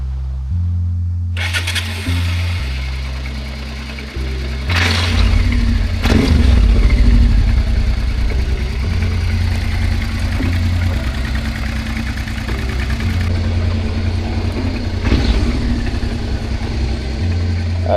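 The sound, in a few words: Honda Africa Twin 750 motorcycle engine starting and idling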